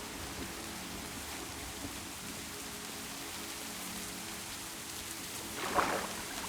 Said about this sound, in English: I wish it wasn't always fucking raining.